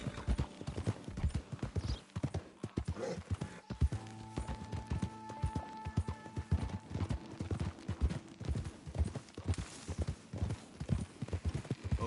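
Horses' hooves clip-clop in a video game, a brisk, uneven rhythm of many close hoofbeats that continues throughout, with a brief whinny partway through.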